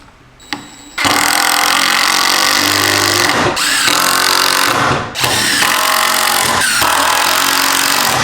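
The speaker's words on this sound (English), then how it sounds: "we can put a couple of screws in it for extra support" A power drill drives screws into a cheap DIY wooden desk in loud, close bursts of whirring motor, with three long runs separated by brief pauses and a short tap just before the first.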